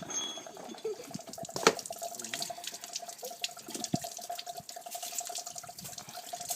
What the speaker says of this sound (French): il enlève la pompe à eau. Du coup, il y a l'eau qui coule